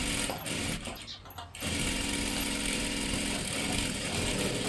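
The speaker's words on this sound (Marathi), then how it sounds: "हे पहा अशा पद्धतीने डबल शिलाई मारून घ्या." A sewing machine double-stitches dress fabric, running in a fast, continuous mechanical whir, breaking off briefly after about a second before resuming steadily and loud to the end.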